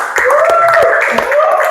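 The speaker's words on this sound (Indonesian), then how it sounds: "Tepuk tangan untuk kita semua." A classroom full of students claps together in a short burst of applause during a mechanical engineering lesson, and the clapping carries over a hum and overlapping voices.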